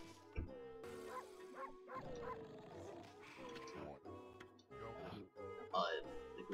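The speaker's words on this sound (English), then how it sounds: "Bark at him until he wakes up." A cartoon dog character barks in the Okami HD video game, several sharp yapping barks and yips mixed with game music and effects, with someone talking over much of it.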